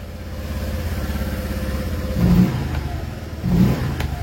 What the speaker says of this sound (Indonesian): Nah ini nyala motornya ya